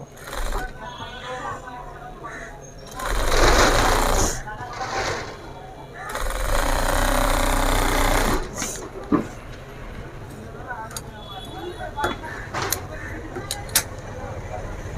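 A sewing machine top-stitches through the pocket fabric of a pair of pajamas, running in two steady whirring bursts of a second or two each, with a person talking in between and afterward.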